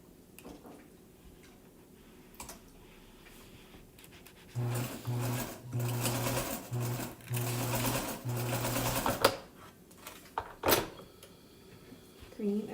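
A sewing machine stitches fabric squares for a Christmas tree mug rug in bursts of fast, close mechanical whirring, stopping and restarting several times between quieter handling noises and brief clicks.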